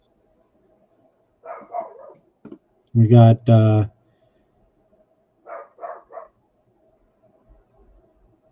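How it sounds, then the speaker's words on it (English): A dog named Bandit barks in a few short bursts in the background, with brief speech in between. "I hear Bandit barking."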